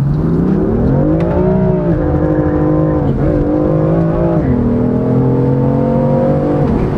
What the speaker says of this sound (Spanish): con el puro sonido del escape o del motor